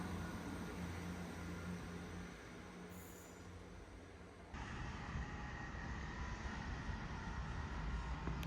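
A Sheffield Supertram tram pulls into a stop. The rail rumble is fairly faint, with a brief high squeal midway and a shift in the background hum as it arrives.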